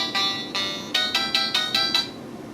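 An incoming-call ringtone on a phone plays a bright electronic melody, two longer tones followed by a quick run of five rhythmic chirps, clear and close with no voices.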